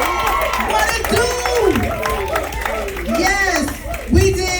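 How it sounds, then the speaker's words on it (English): A crowd at the "Sista Soulja" movie premiere claps and cheers for everyone in the film, dense clapping mixed with loud whooping and shouting voices close by, sustained throughout. "let's give a round of applause to everybody that was in this film."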